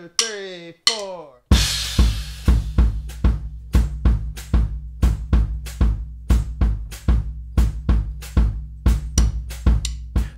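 Drum kit playing a two-beat bion pattern, a short voice count-in followed by steady, loud, evenly spaced kick and cymbal hits repeating throughout.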